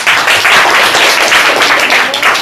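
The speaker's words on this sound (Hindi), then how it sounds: "एक और इनके लिए तालियां हो।" Classroom applause, a steady burst of clapping from many students that stays loud and close for a couple of seconds.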